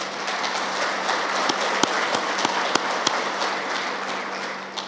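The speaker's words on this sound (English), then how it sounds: "I'd really like us to give them a round of applause." Steady applause from a conference crowd fills the whole stretch, dense and even, with a few sharper claps standing out.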